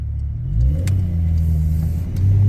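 A Chrysler car passes nearby, its steady mid-low engine rumble swelling as it goes by and rising again toward the end, with no talk over it.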